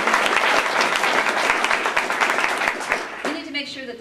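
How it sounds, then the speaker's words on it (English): An audience at a green jobs political event bursts into dense, sustained applause with crowd noise. The clapping fades out near the end as a speaker's voice takes over. "let's give him a cheer."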